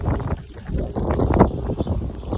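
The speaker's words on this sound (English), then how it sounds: "hold your hat, it's windy" Gusty wind blows at the top of the Tybee Island lighthouse in Georgia, buffeting the microphone in uneven rumbling bursts that swell and ease, with one stronger gust in the middle.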